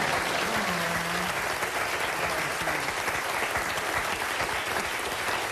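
A crowd applauds continuously, a dense wash of many hands clapping at steady loudness, with a brief murmur of voices underneath.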